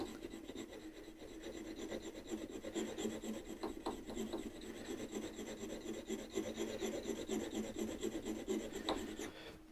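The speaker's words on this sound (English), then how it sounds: "You go in and sharpen it." A hand tool blade rasps back and forth on an oiled sharpening stone in steady, rhythmic strokes, close and continuous for the whole stretch, with no talking.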